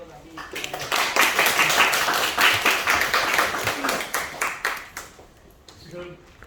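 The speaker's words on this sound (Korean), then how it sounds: "강사님을 큰 박수로 맞이해주시기" Audience applause welcoming a lecturer at an elementary school talk, a dense burst of clapping that swells for about five seconds, then thins out and fades, with a voice briefly heard at the end.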